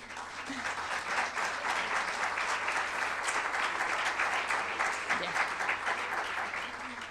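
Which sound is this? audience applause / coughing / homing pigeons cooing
audience applause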